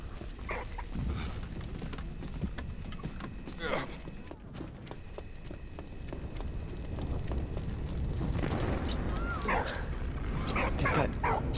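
A dog barks and yips in the World War I video game Valiant Hearts, short bursts scattered through a busy mix of game sounds and music, with a person talking over much of it.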